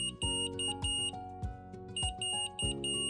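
A short run of electronic beeps from an Omnipod insulin pump advisory alert repeats in quick, evenly spaced bursts, loud and close, with no voices.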